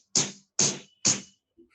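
Three hard bangs on a jeep door, evenly spaced about half a second apart, each a sharp loud thwack with a quick decay, followed by a faint knock.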